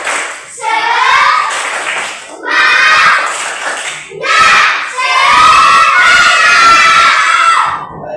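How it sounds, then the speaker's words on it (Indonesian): Schoolchildren stand and perform a loud rhythmic spirit clap chant, shouting in unison in several bursts with claps and thumps between, the last burst long and energetic. "Tepuk semangat."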